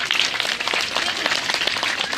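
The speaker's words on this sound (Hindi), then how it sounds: "इनके भरपूर तालियां।" Applause from an audience at a school annual prize distribution ceremony in Islamabad, a steady dense patter of many hands clapping close by.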